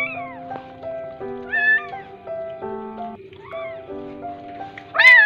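Abandoned kittens at a market cry in a series of high, insistent meows, several voices overlapping and close, with a louder cry at the end.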